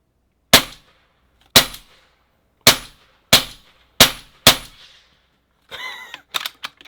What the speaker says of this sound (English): That was a sweet sounding ricochet.